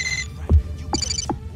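A selectable phone ringtone from the basketball game NBA Live 07 plays as two short bursts of bright electronic tones with soft knocks between them, clear and close.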